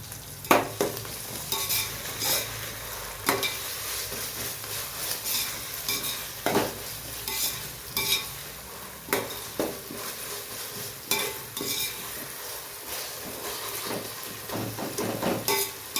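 Ingredients fry in a pan for ghee rice, ginger garlic paste among them, as they are stirred: a soft, steady sizzle punctuated by repeated scrapes and clinks of the spoon against the pan, no voices.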